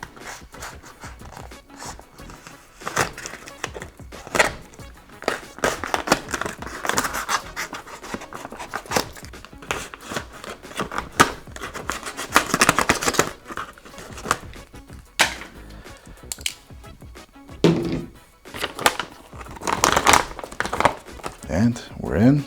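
Crinkling, tearing and scratching of plastic ration packaging as it is cut open with a Benchmade knife, close and irregular, with breathing and rustling throughout and no clear talk.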